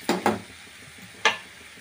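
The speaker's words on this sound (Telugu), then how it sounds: "బాగా కలుపుకుందామండి" Eggplant and raw mango pulse being stirred in a pan with a spoon, giving three quick scraping knocks, two close together and one after a pause, over a faint background.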